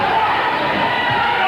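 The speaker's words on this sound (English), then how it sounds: "And the crowd's coming back a little bit." Crowd at a 1983 high school basketball championship final in Winnipeg, a steady, loud roar of cheering and chatter filling the gym, with no distinct breaks.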